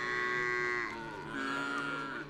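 Cattle moo on dry rangeland in Laikipia, Kenya, two long drawn-out lowing calls close by, one after the other, with a short dip between them and no talk.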